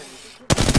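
Gunfire in the video game Apex Legends erupts after a brief quiet moment, a loud, rapid burst of close automatic shots.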